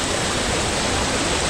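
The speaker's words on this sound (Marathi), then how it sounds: "एक नंबर वॉटरफॉल आहे" Aadoshi waterfall in Khopoli roars steadily, a dense, continuous rush of falling water heard close and alone.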